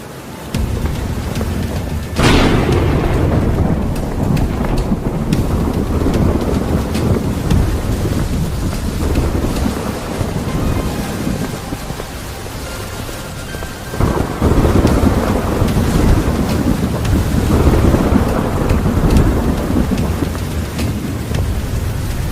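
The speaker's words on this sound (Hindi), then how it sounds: "देखो कितनी जोर की बारिश हो रही है" Heavy rain roars steadily as two sharp thunder cracks break out, one early and one midway, each rolling into a long rumble, with gusty wind.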